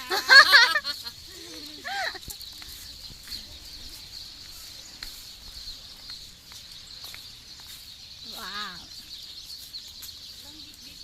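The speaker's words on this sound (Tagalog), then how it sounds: "Ang daming ibon." Birds in a park keep up a steady high-pitched chorus of calls throughout. A person's exclamation and a few nearby voices break in briefly near the start and again later.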